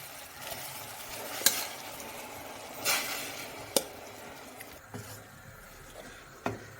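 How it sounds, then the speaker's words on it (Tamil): Soaked flattened rice (aval) is tipped into simmering white jaggery syrup and stirred in a pan, with scattered sharp spoon clinks and soft scraping over a low cooking hiss. "இந்த கொதி வந்த பின்னாடி நம்ம இந்த ஊற வச்ச அவலை இதில் சேர்த்துடலாம்."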